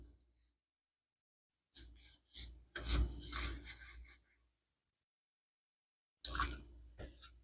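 A hand rubs a spice mixture into raw beef for slow-cooker shredded beef, two short bursts of close, moist rubbing and squishing separated by silence.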